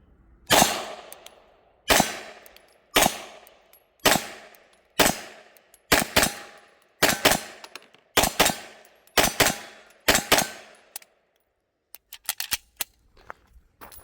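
Pistol shots from an MPA DS9 LOC MK2 fired with 115-grain ammunition at a shooting range, nine or ten sharp loud cracks spaced about a second apart, followed by a pause and faint clicks.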